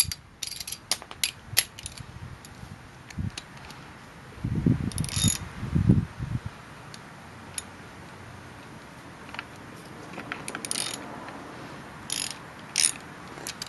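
A bolt on the starter of a 2001 Honda Odyssey is tightened with a ratcheting tool. Close, intermittent clicks and ticks come in short bursts, one busier cluster sits in the middle, and no one talks.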